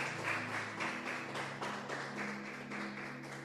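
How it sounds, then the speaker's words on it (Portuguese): A church congregation claps steadily and in rhythm during a service, with a sustained musical hum underneath. "Aplaude aí ao Senhor com alegria"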